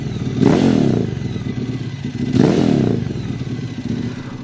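A Royal Enfield Interceptor 650 motorcycle engine runs steadily with two rough surges of throttle, close and fairly loud, with some mechanical clatter and no talking.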